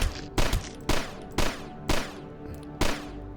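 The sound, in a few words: crossbow firing bolts in the video game DUSK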